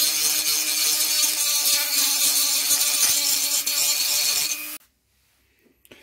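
A Dremel rotary tool bit grinds a brass barrel with a loud, close, continuous high-pitched whine and rasp that runs for several seconds, then cuts off abruptly into near silence.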